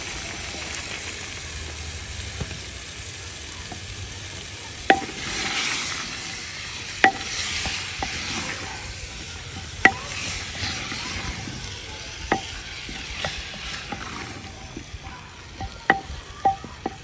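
Potatoes and mixed vegetables fry in a pot after a tempering, with a steady sizzle and repeated sharp scrapes and taps of a spoon stirring against the metal, growing more frequent toward the end.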